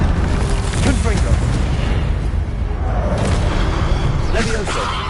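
Confringo fire spell blasts in Hogwarts Legacy, a dense, booming explosive roar that fills the whole stretch at close range, with game effects layered over it.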